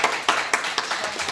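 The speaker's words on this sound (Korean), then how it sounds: "동의하면 박수 쳐야지." An audience claps in agreement at a religious gathering, giving about six quick distinct claps spread over a second, fairly close and loud with no talk.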